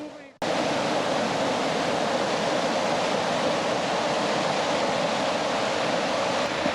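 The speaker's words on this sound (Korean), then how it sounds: "저기 빙하 입구에서 쏟아져 나오는 차가운 잉구리 강물의 원천이 바로 저 앞에 얼음 덩어리입니다." Cold Enguri River meltwater gushes from the mouth of a glacier near Ushguli, Georgia, a loud, continuous roaring rush that starts abruptly after a brief quieter moment and stays steady throughout.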